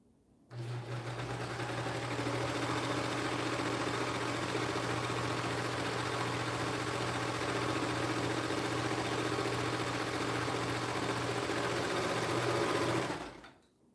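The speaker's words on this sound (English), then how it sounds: "That's why I have sewing machines." A sewing machine runs steadily for about thirteen seconds, a close, even motor whir with rapid needle chatter that starts and stops abruptly.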